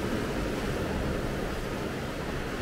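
Sea waves near a beach at La Caleta on Tenerife, a steady broadband wash of surf with no breaks, fairly loud and continuous with a touch of wind.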